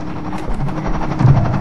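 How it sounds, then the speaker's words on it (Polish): Helicopters in Half-Life 2 give a steady low rotor drone with rhythmic chopping, loud and close throughout. "Helikoptery na jednego cywila."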